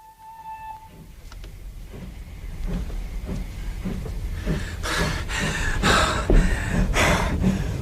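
A steam train passing in a radio drama set on a Scottish line near Girvan, rumbling louder with rhythmic wheel clatter that builds to heavy rushing bursts at close range; no talk.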